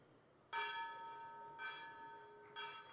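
A ceremonial bell rung for peace at a world peace prize ceremony, with three clear strikes about a second apart, each leaving a long, bright ringing tone that overlaps the next strike.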